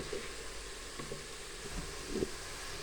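Whole spices roast in oil for beef masala, a faint, steady low sizzle with a couple of soft clicks and stirring scrapes, heard alone.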